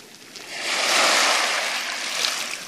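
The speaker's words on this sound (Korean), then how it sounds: "파도 소리가 아주 시원하게 들리고" Surf washes over a pebble beach at Beolcheonpo Beach in Seosan, South Korea, swelling into a loud, hissing rush with rolling pebbles before easing off, a broad close roar with no voices.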